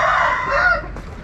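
A brooding hen sitting on eggs gives a short, close, loud vocal call lasting about a second, with no talking around it.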